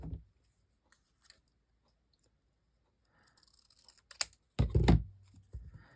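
Scissors trim a cutout of a book page for a journal, giving a few sparse, close snips and paper rustles after a long quiet stretch.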